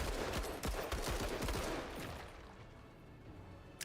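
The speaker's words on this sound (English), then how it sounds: "but for now, we get to shoot this guy." Video game gunfire aimed at an alien Xeno in the game Menace: a rapid, loud burst of repeated shots at the start that thins out into a fading rumble, with no talking.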